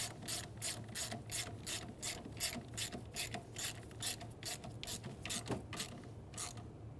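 A ratchet tightens the camshaft position sensor bolt on a Ford Focus, giving about a dozen quick, evenly spaced clicks across several seconds. The clicks are close and crisp over a low background hum, with no voices.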